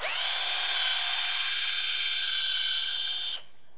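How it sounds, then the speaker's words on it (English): An electric reamer whirs steadily as it rounds and bevels the cut end of a multilayer press-fitting pipe, a close, loud high-pitched motor whine holding for about three seconds before cutting off abruptly. "Round and bevel the end holes with the electric reamer."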